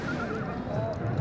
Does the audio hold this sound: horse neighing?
yes